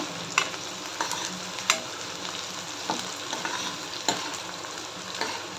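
Onions frying with a bay leaf in a pan, a steady soft sizzle broken by occasional sharp scraping strokes of a spoon, close and moderately quiet, with no voices.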